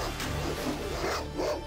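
A dog barks in the Baldur's Gate Enhanced Edition video game, short muffled barks over dense game background noise.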